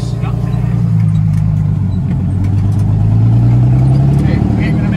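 International truck with a Detroit Diesel 6-71 turbo driving across a rough field, a loud, close, continuous diesel drone that rises slightly in pitch as the engine works, with someone talking over it.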